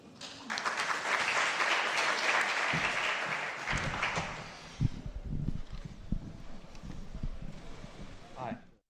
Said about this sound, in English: Please, a big applause for him.